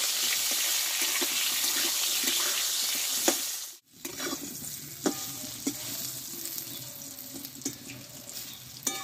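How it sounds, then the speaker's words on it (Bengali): Eggplant stir-fried with turmeric in a kadai, a continuous close sizzle with spatula scrapes and stirring knocks, briefly cut off partway through, and nobody speaks. "এইবার বেগুনগুলো একটু ধীরে ধীরে কষে নিব"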